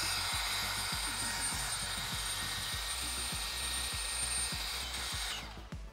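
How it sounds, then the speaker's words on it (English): Power drill spinning a brush attachment against a Camaro wheel hub during rotor replacement, a steady close whirring hum with rapid repeated scrubbing pulses, then slowing at the end. "I have a drill brush attachment that I will take to the surface of the wheel bearing here"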